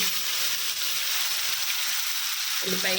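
Ground onion paste and bay leaves sizzle in hot oil, a steady bright frying hiss that shifts and flares partway through as the paste hits the pan, close and continuous with no talking.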